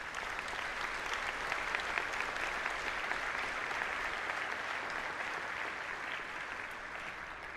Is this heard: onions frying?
no